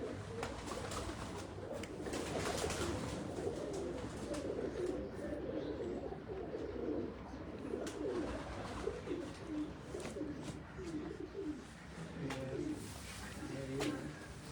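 Pigeons coo repeatedly in low, rolling calls, several birds overlapping at moderate distance beneath a steady background murmur.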